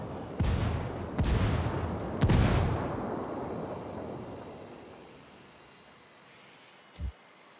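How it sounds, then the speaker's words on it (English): Mortar fire in Ghost Recon Wildlands: three heavy booming blasts in quick succession, each rolling out into a long fading rumble, followed by a brief sharp thump near the end. "I call Pacatari for some mortar fire"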